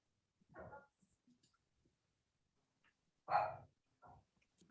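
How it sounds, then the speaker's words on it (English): A dog barks in the background during an online tabletop game session, two separate bursts, one short and one louder, with quiet gaps between them and no talk over them. "Whose dog is barking?"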